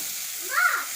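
Eggplant pieces frying in oil in an outdoor cooking setting give a steady close sizzle, with a brief louder swell of hissing and spitting near the middle as pieces are flipped.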